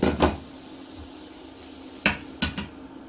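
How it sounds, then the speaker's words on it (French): A piece of sea bass fillet is set down onto a plate in a kitchen, giving a few sharp clinks and scrapes of utensil and crockery, one near the start and a quick cluster of two or three later. "Je le mets dans une assiette et je le reprendrai après."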